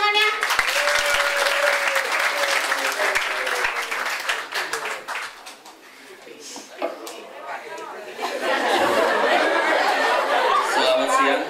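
An audience at a high school student council election event applauds, first with clapping under chatter, then a quieter lull, then a fuller burst of clapping; voices talk throughout.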